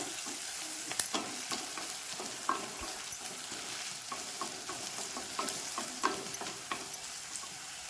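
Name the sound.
dried red chillies sautéing in a pan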